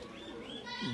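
A pigeon coos briefly during a pigeon-trapping session on a rooftop in Sialkot, a single short, close, throaty coo over faint background noise.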